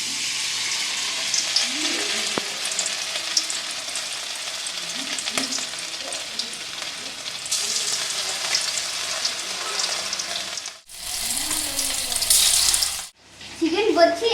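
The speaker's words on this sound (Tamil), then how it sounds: "Chicken fried ரைஸ்க்கான chicken 65 வறுக்கலாம்." Chicken 65 deep frying in hot oil in a home kadai, a steady loud sizzle and bubbling throughout, broken near the end by brief louder surges and a short gap.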